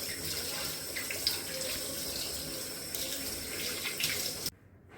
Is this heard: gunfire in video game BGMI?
no